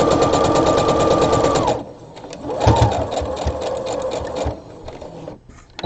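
A sewing machine stitches a drawstring cosmetic bag, running fast and steady with a high motor whine, then slowing into a short back stitch with slower, uneven needle thumps, close and loud.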